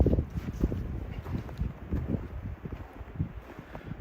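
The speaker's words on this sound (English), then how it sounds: "that wind is a little crazy if you can hear it" Gusty wind buffets the microphone on a mountain hike near Emerald Lake, a steady low rumble that swells and dips in uneven surges with no talking.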